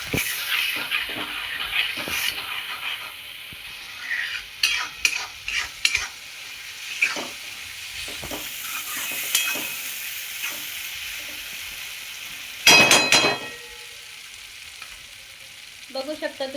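Stuffed eggplant gravy for Maharashtrian bharli vangi frying in oil while being stirred, a soft sizzle under repeated spoon scrapes and knocks against the pan, with one louder clatter near the end.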